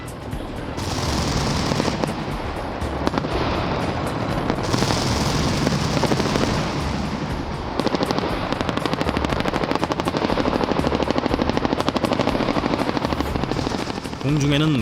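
Biho anti-aircraft gun firing at targets in a South Korean military demonstration, heard as loud sustained rapid bursts of close gunfire over a constant heavy engine and rotor-like drone, with a brief gap, then firing resumes until the end.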